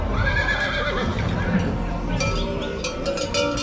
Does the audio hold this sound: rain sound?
no